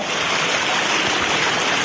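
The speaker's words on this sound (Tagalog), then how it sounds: "Ang lakas ng tubig" Strong mountain river current near Mount Makiling, a steady broadband rush of water close by with no voices.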